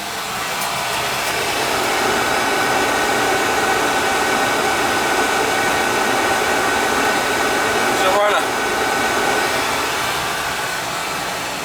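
A large building's boiler burner fires after ignition, giving a steady, loud broadband roar that holds evenly throughout with a brief clank partway through.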